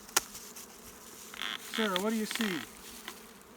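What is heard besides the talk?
honey bees buzzing in an opened beehive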